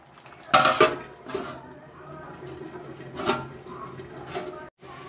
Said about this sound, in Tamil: வானலை க்ளோஸ் பண்ணி மூடிடுவோம்